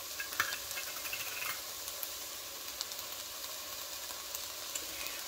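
Ground beef hamburger with mirepoix and rustic rub frying in a pan, giving a steady, close, even sizzle with faint crackles throughout and no voices.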